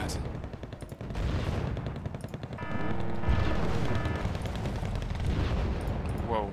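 Heavy, continuous gunfire and explosions pound a command vehicle in the Wargame Red Dragon battle game, a dense rumbling barrage with bursts of automatic fire layered over constant booming.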